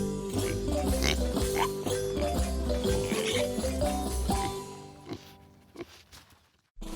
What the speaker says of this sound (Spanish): El cerdo se comunica gruñendo y haciendo ruiditos divertidos.